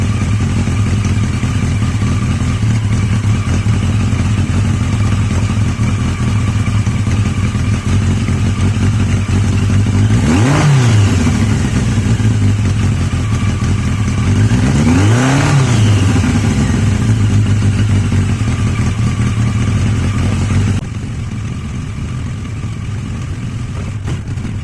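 A steady engine idle runs throughout, with two brief revs rising and falling midway; the idle drops slightly quieter near the end.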